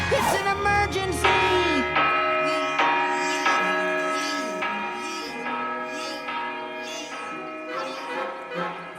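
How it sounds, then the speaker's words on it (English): A town's large bell rings out in repeated, evenly spaced strokes, each ringing on with long overlapping tones that fade slowly, loud and resonant. "It's the town bell!"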